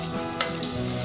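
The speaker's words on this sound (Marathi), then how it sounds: "लसणाच्या अख्ख्याच पाकळ्या टाकते मी, लाल मिरचीचे तुकडे" Whole garlic cloves and red chili pieces fry in oil with a steady, close hiss and crackle, one brief louder spatter partway through.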